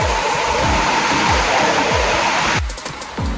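Rain pours down outside a house in a loud, steady broadband wash heard close from the front porch, with a series of low rumbling thumps beneath it and a sudden thinning of the downpour near the end.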